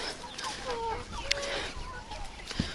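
Young chickens in a yard cluck and chirp in scattered short calls, with a couple of sharper peeps standing out over a noisy outdoor background.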